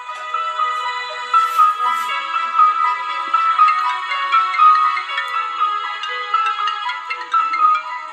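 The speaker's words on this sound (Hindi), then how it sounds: "रोहित को फोन करके खुशखबरी देती हूँ।" A phone rings with a continuous electronic melody, clear and fairly loud, repeating its tune without pause and with no voices.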